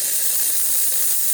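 The steam wand of a Rancilio espresso machine, freshly descaled and deep cleaned after weak steam, lets out a loud, continuous, steady hiss with nothing else audible.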